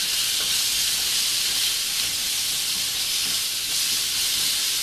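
Squid cooked with garam masala sizzles loudly in a pan, an even, continuous hiss of frying without pauses or voices.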